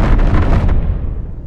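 A custom ball turret in the game Space Engineers fires one loud, close blast that booms and then decays over about a second.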